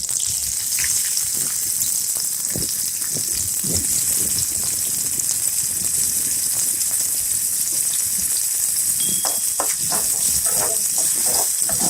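Onions frying in soybean oil in a wok give a steady, broad sizzling hiss with occasional soft pops and scrapes, fairly close and continuous.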